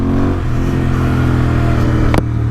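A close, steady engine roar comes from an Interceptor 650 motorcycle with an S&S camshaft as it pulls away and accelerates, with a brief sharp click near the end.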